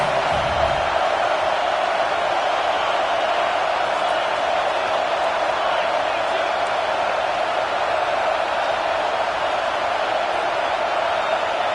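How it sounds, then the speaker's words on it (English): A home crowd at a football game roars loudly and without letup, a dense wall of cheering and whooping that holds steady from start to finish. "how nice is it to have the home crowd going absolutely bananas"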